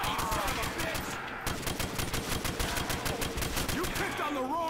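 A G36E rifle in Call of Duty World at War custom zombies fires a fast, steady string of loud shots close up, with brief voice fragments mixed in.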